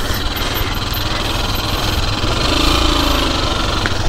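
A motorbike engine rumbles steadily while riding along a muddy village road, loud and close with continuous low drone and no voices.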